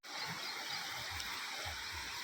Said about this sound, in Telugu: కాలువలో నీరు ఉధృతంగా ప్రవహించడం జరుగుతోంది